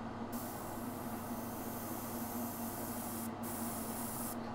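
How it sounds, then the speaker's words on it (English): An airbrush sprays Green Stuff World colour shift paint in a thin first coat, a steady loud hiss running continuously with two brief dips in the top end. "I've just put a good amount of the Green Stuff paints, the Green Stuff World Colour Shift paints into the airbrush."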